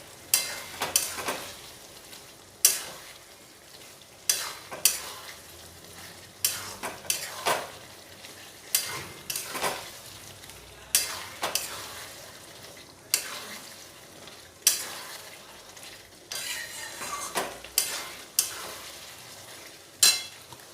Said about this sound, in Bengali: কাশ্মীরি লঙ্কা পাউডার, দিয়ে নাড়াচাড়া করে মিশিয়ে নেব